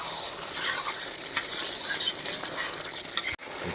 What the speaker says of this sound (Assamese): ছাগলী মাংস পুৰা ভাজি আছোঁ